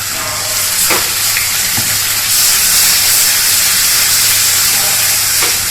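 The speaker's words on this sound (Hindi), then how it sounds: "अब हम डाल देंगे इसमें जो ग्रेवी बना के रखी थी, इसको डालना है।" Gravy being added to a hot pan for matar paneer sizzles and fries steadily, a loud continuous hiss with faint stirring clicks throughout and no talk.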